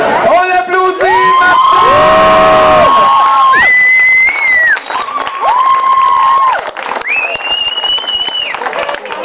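A crowd at a 2009 head-shaving challenge event cheers, whoops and applauds loudly and continuously, with shrill shouts and sustained yells rising above the clapping throughout.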